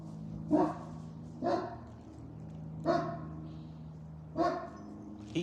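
A dog barks in four separate bursts spaced about a second and a half apart outdoors, fairly close, with a low steady hum underneath and no talking.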